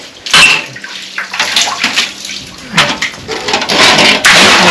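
Dirty water being poured out of a container at a forest campsite, loud close splashing and gurgling in uneven bursts that build toward the end, with no talking.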